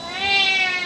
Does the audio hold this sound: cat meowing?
yes